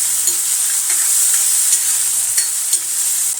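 Onions and tomatoes frying with spices in a pan for a masala dal, a steady loud sizzle with occasional stirring scrapes and clinks throughout, no talking.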